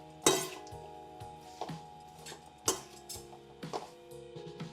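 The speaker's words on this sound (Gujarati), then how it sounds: "સરખી રીતે મિક્સ કરી દેશું" Dhani snack being stirred with salt in a bowl: irregular clinks and scrapes of a utensil against the dish, a few louder knocks among lighter rattling, with quiet music underneath.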